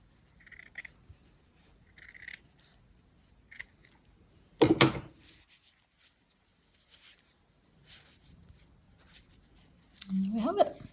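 Scissors snip through felt while a small flower brooch is being made, with short scattered cuts, one sharp louder snip in the middle, and a person talking quietly between them.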